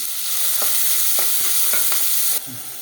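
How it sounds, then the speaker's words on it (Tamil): Steady, loud sizzling of chopped onions sautéing in a hot pan, with a few soft scrapes of stirring before the hiss drops a little. "அது போட்டு அது வதங்கட்டும்"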